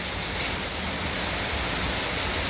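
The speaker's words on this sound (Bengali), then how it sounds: "আমরা বসে বসে বৃষ্টি দেখছি বৃষ্টি হচ্ছে বাইরে" Heavy rain with hail falling outside, a dense, loud, continuous roar of drops hitting surfaces with no pauses or voices.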